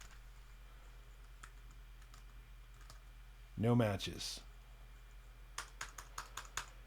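A computer keyboard is typed on in a short burst of sharp, separate clicks, close and fairly quiet over a low steady hum, just after a brief spoken phrase.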